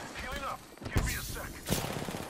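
Bursts of video-game gunfire, a few sharp close shots cracking over a busy backdrop of game noise, with a voice talking faintly under it.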